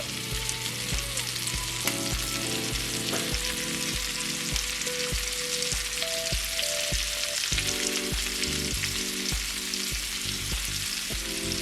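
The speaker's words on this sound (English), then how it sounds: "And now I'm ready to add my shrimp here." Shrimp fry in a hot pan for a stuffed turkey leg dish, giving a loud, steady sizzle with stirring clatter throughout.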